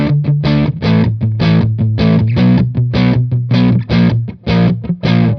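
Heavily distorted electric guitar through a high-gain amp simulator, chugging in a steady rhythm of palm-muted chords, loud and saturated with a thick, compressed tone.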